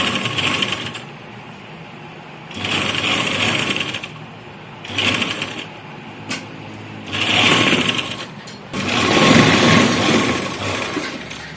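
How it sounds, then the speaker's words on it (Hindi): A sewing machine stitches a seam on a simple suit, its motor whirring in four or five loud bursts of a few seconds each, separated by short pauses. "इस पर भी हमने इक्वल सिलाई ही लगानी है।"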